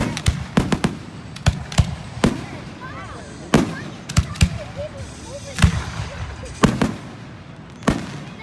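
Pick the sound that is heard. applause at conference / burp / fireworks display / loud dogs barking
fireworks display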